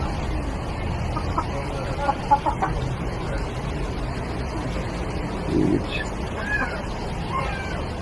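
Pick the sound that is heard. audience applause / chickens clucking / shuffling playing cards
chickens clucking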